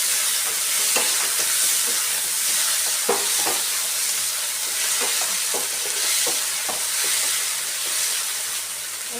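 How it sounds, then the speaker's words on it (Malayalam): Finely chopped tomato fries in a pan with onions in a Kerala-style side dish, making a steady crackling sizzle broken by repeated scraping and stirring knocks. "ഇനി ഇതിലേക്ക് ഒരു തക്കാളി ചെറുതായിട്ട് അരിഞ്ഞ് ചേർത്ത് കൊടുക്കാം"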